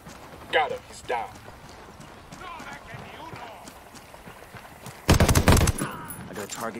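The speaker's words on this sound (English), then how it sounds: "Se escuchó un arma de fuego." A loud burst of gunfire in the Ghost Recon Wildlands video game erupts late in the clip, with dense rapid shots after quieter stretches of talk and footsteps.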